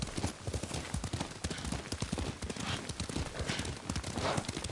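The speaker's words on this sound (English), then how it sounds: "Lord Sakai taught me to ride a horse" Horse hooves gallop in a fast, steady rhythm in the video game Ghost of Tsushima, close and continuous throughout.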